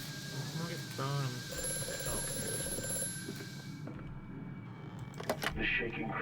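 Telephone ringing in the horror game Amnesia: A Machine for Pigs, a bright repeating bell tone sounding steadily for several seconds amid ambient game sounds and voices before cutting off.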